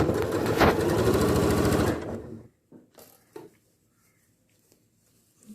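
A sewing machine stitches a shirt cuff in one steady, close, loud run of rapid needle strokes for about two seconds. Then it stops, leaving a few soft handling clicks and rustles.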